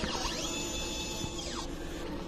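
An inkjet printer runs a print head cleaning cycle on a head in use since July 2023, its capping unit in good condition. Steady mechanical whirring and rising, falling motor tones play close up and alone, with no talking.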